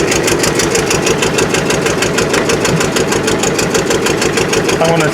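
A Rolls Royce engine, revived after sitting dead, runs steadily nearby with a loud, even, rapid mechanical pulsing and faint ticking throughout.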